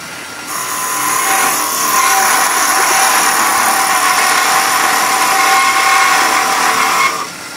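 Wood lathe spinning a piece while two 8mm tenons are cut, making a loud, steady high whine with a sharp start and stop and a cutting rasp underneath.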